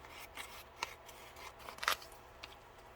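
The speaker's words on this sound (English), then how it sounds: "So I'm just going to cut this down a tiny bit." Scissors snip and rasp through paper being trimmed for a junk journal, a few close, crisp cuts and rustles against a quiet room background.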